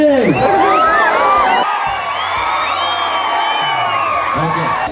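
A large crowd shouts and cheers loudly, with overlapping whoops and high yells rising and falling throughout.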